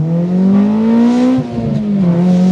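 An Acura Integra RSX Type S with a K20Z1 VTEC engine accelerates hard in first gear, its steady rising engine drone loud and close from inside the car, with a brief dip and shift in tone partway through.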